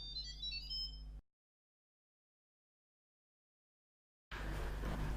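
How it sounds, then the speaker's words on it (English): An Instant Pot IP DUO electric pressure cooker gives a short, bright, descending electronic chime as its lid is operated. Silence follows, then a low steady hum. "it also makes a little sound when the lid is closed, opened,"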